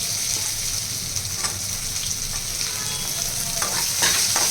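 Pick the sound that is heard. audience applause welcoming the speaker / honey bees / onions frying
onions frying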